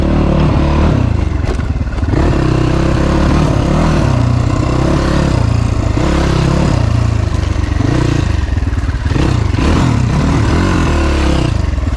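A 2018 SSR 250S motorcycle with a carburetor that makes it run roughly, ridden continuously with a steady, close engine drone that rises and falls with the throttle.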